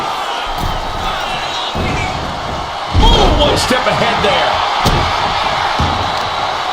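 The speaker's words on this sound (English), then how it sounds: "This capacity crowd is really willing these competitors on." A capacity crowd at a live WWE SmackDown wrestling event, Roman Reigns versus Charlotte Flair, cheers and roars loudly, swelling with a slam partway through, while a commentator talks over the noise.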